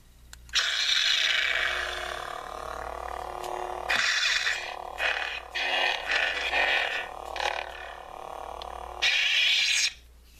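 A Graflex 2.0 lightsaber's sound font hum with swelling, crackling swings and clashes, loud and continuous for about ten seconds with brief dips between strokes.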